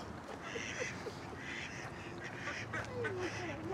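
Ducks quack in short bursts over steady outdoor background noise, fairly close and moderately loud.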